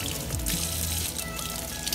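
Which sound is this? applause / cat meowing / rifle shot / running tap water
running tap water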